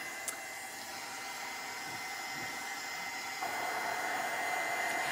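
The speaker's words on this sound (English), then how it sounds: "I'm going to dry it with the heat gun" A heat gun drying gesso on a wooden box blows a steady, close hissing whir that grows slightly louder partway through, with no talking.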